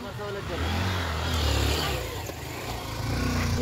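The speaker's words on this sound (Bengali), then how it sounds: "বাইকে করে স্নান করতে গেছিলো, চলে এসছে।" A motorbike approaches and arrives, its engine swelling to a peak partway through and then settling to a steady hum as people talk nearby.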